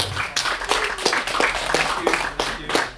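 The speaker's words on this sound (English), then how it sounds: "let's give another round of applause for Mr. Kevin Phil" Audience at a Malaysian music talk event applauds a guest with a rhythmic round of claps, moderately loud and steady for a few seconds.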